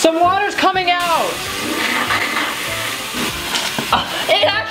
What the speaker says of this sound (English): now time to rinse. Oh, some water's coming out.